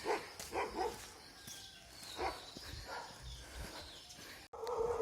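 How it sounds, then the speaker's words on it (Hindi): Several dogs barking on a street during a morning walk, with short bursts of barks repeating at middle distance and a louder outburst near the end. "अरे भाई इतना डॉगी है यार, जहाँ पे भूख भूख भूख भूख कर रहे हैं भाई"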